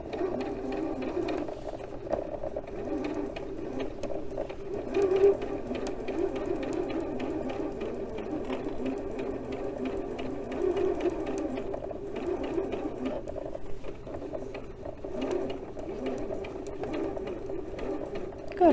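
A sewing machine stitches the gentle curved seams of a quilt block, its fast mechanical whir running continuously at a soft, close level with small pauses and shifts in pace.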